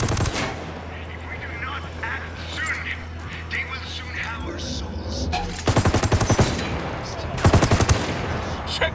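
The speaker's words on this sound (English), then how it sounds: "Shots fired." Automatic gunfire in Ghost Recon Wildlands, loud rapid bursts of machine-gun shots rattling out in two clusters, with game music and voices underneath.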